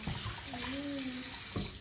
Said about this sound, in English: We're running water through the chicken one more time.